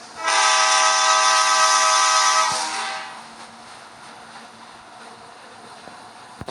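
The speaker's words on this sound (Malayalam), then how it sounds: "അത്ര സമയം ഞാൻ ഇപ്പോൾ ട്രെയിനിൽ പോകും." A train in the Indian Bike Driving video game sounds a long, loud horn for about two and a half seconds, a stack of steady tones that cuts off sharply and leaves a faint rumble of rolling wheels behind it.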